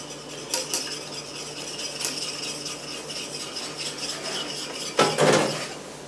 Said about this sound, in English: Stir in some cornstarch. With a little mini whisk.